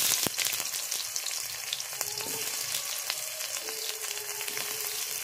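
Onions frying in a pan after being added to browned sugar, a continuous bright sizzle with occasional clicks and stirring knocks, no talk.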